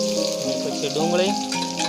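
Onion hits hot oil with mustard seeds, cumin, green chillies and curry leaves for batata poha, giving a brief, fairly soft sizzle and crackle, with faint clinks of stirring.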